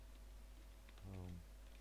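A short run of quick keystrokes on a computer keyboard while entering a command on a desktop system, faint and close, heard alone after a quiet pause.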